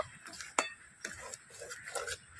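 A spoon scrapes and clinks against a pan as semolina is stirred into milk, a few quiet, separate knocks and taps at a gentle, irregular pace, close and faint.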